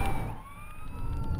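A wailing emergency siren sweeps steadily over a low rumbling of traffic, loud and continuous throughout.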